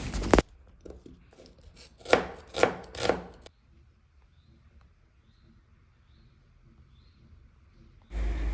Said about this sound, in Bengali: পেঁয়াজ মরিচ কেটে নেওয়া শেষ